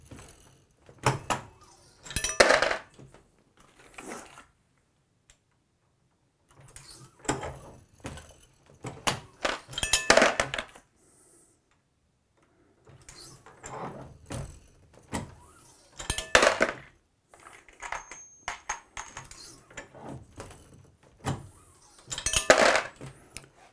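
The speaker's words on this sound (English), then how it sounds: "So let's go ahead and run the press down." Metallic clinks and clunks from a reloading press being worked while loading .500 S&W Special brass, coming in separate bursts with quiet gaps between, close and fairly loud, with no talking.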